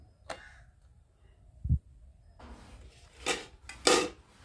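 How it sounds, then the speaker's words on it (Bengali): A metal plate is set onto a stand sitting in water inside a pan, giving a few sharp, isolated clinks and scrapes of metal on metal, close by in a quiet kitchen. "তার উপরে এই থালাটা বসিয়ে দেবো।"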